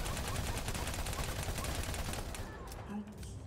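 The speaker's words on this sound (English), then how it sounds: "I'm gonna shoot from here" Rapid gunfire in the shooter game Battleborn, a sustained fusillade of repeated shots up close that thins out toward the end, with game sounds and some voices mixed in.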